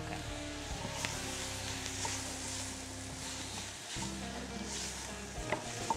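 Flour sizzling in a pan for a potato and spinach gratin, a steady soft frying hiss with occasional stirring scrapes, no talk.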